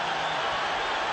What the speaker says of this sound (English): And the crowd applauds